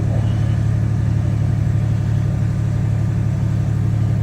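A car engine idles steadily with a low, even rumble and constant hum, close and loud, with no revving.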